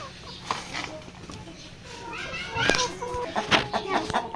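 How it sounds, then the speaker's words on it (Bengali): Egg-laying layer hens cluck and call at close range on a poultry farm, with several short, irregular bursts of clucking over a steady background of farmyard noise. "ডিম পাড়া লেয়ার মুরগি।"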